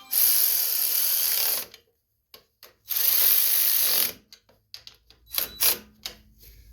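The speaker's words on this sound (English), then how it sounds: "go ahead and tighten them nuts up" Ratchet wrench snugging nuts down on a Briggs & Stratton snowblower carburetor, two long bursts of rapid close clicking separated by a pause, followed by scattered short metallic taps and clicks.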